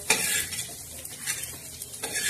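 A spoon stirs and scrapes dark roasted black masala around a hot pan, scooping it out with steady rasping and light metallic clinks, close and alone with a faint sizzle underneath.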